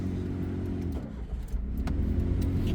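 A car engine, stalled on a hill during a clutch-control lesson, starts again and revs with a steady mid-pitched drone and a short rise in power, close by.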